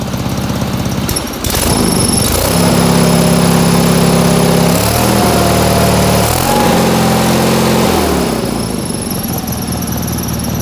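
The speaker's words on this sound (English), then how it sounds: "Got the engine running good." A 1979 garden tractor engine runs loudly and steadily nearby, its pitch rising and shifting midway before settling into a lower idle.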